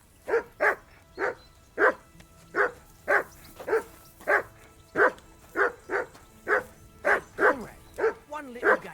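A dog in the video game Kingdom Come: Deliverance II barks over and over in a steady, evenly spaced rhythm, about sixteen loud, close barks in nine seconds against quiet background ambience.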